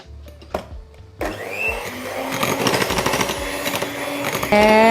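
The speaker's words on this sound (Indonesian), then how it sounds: "Jadi kita yang pakai mixer cuma bahan-bahan kering aja." An electric mixer on low speed blends dry cake ingredients for a steamed sticky rice cake, starting after a few clicks and building into a steady whirring hum with rattling beaters against the bowl.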